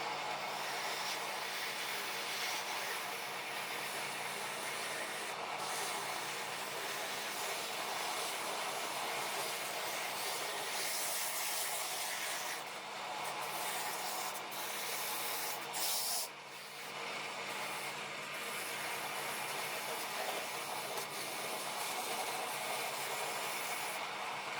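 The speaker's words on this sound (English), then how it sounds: "if we keep going with it, move up the sandpaper grits, it will look a lot nicer" Sandpaper held against a wooden workpiece spinning on a lathe, a steady broadband hiss and rubbing whir that continues without a break, moving up through the grits.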